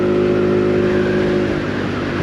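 Suzuki Address 110 scooter accelerating steadily toward 40 mph, its small engine droning loudly and continuously with a rising whir and wind rush throughout.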